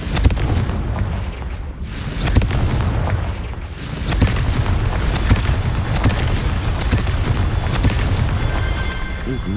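Confringo fire spell exploding in the video game Hogwarts Legacy, a loud rumbling blast followed by sustained crackling booms and roaring debris, dense and heavy throughout.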